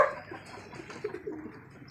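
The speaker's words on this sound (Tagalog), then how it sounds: "Yan sila mga kalapatid." Pigeons cooing in a loft, soft low murmuring calls repeating through the whole stretch at moderate distance, with faint chirps and light background noise and no talk.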